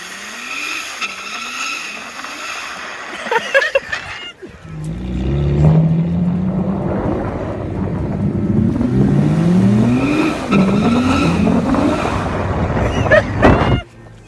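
A low race car pulls hard through second gear, engine revs climbing in repeated sweeps with tire squeal and skidding, loud and close, ending abruptly.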